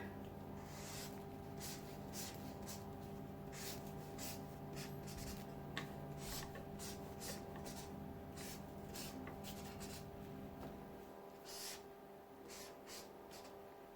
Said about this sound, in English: you're going to take your marker or your crayon or whatever you've got, and we're going to draw some stems on there